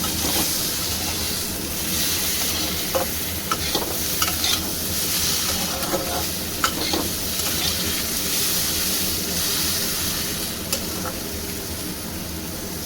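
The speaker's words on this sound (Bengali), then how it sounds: "কাঁচা কলাটা দিয়েছি, এটাও একটু আস্তে আস্তে এর সঙ্গে নেড়ে চেড়ে একটু ভেজে নেব।" Raw banana pieces are stirred and fried in a little leftover oil, with a loud continuous sizzle and repeated utensil scrapes and clinks against the pan.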